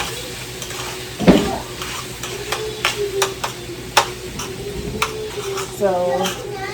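Tomato paste gets stirred into a pan on the stove while cooking stuffed bell peppers: a spoon scrapes and clinks against the pan in irregular strokes, with a soft sizzle underneath and someone talking.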